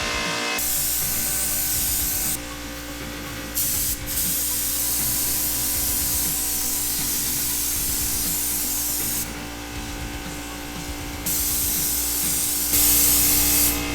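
Spray gun laying a first coat of paint on a Corvair rally car, a continuous close hiss broken by short pauses between passes, alone with no talk.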